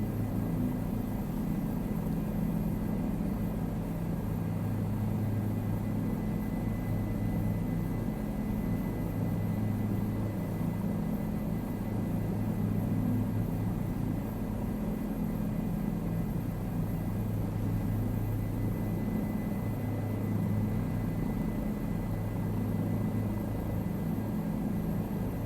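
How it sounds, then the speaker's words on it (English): A Bell 407 helicopter in a flight simulator game drones along steadily, a continuous low rotor and engine hum with no break, fairly loud and unchanging throughout. "And the 407 is flying good today."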